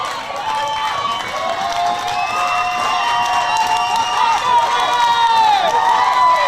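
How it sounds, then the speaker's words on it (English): A crowd at a youth baseball World Series championship game, Texas versus Florida, cheers and shouts loudly and continuously, with many children's high voices rising and falling through the din. "You can hear the crowd get into it."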